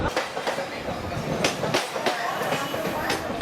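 A crowded passenger train wagon rolls along the rails with a steady rumble and rhythmic clickety-clack from the wheels, heard from inside, while a voice talks over it.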